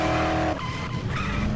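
A car from the Dead Island game skids with a sharp, loud tire squeal and engine whine that breaks off into a rough scraping rumble, brief and close.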